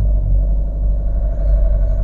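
A Fiat Linea 1.3 Multijet with an automated dual-logic gearbox pulls away from standstill, giving a steady, close, low engine rumble that holds for two seconds, with no talking.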